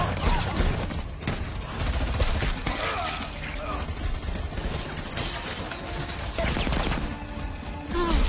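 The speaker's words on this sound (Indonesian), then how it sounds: "Colin dan timnya datang dan langsung menembaki Xian bersama pengawalnya sehingga baku tembak" Gunfire rings out during a film shootout, with dense, crackling bursts of shots and impacts packed into a loud, busy action mix.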